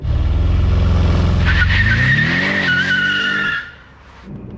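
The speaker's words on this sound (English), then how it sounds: "If it's not completely dry out, it does an all-wheel drive burnout." An Audi RS7 does an all-wheel drive burnout on a wet road, its loud, close engine roaring while the tyres squeal in a rising, sustained screech before the noise cuts away at the end.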